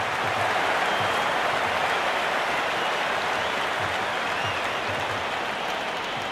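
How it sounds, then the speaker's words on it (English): A stadium crowd roars in a cricket video game broadcast, a loud, unbroken wash of cheering and applause-like noise that fills the whole stretch without commentary over it. "It's evident and ever so audible that the crowd is at near bursting point at today's play."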